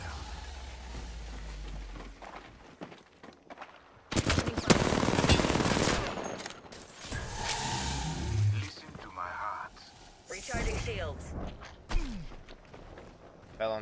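Automatic weapon fire rattles in a shooter video game, coming in loud bursts and sustained rapid strings alongside mechanical clatter, with a player talking at times over the action.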